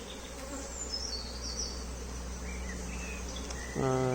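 Honey bees buzz steadily around an open beehive, a continuous near hum with a faint higher insect whine, swelling louder and closer in the last half second.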